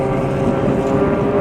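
Extra 300 aerobatic aircraft with its 300-horsepower engine at an air display, a loud continuous droning engine roar with wind buffeting, steady throughout.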